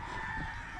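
A rooster crows in a steady, sustained call, fairly faint and distant against a constant background hum.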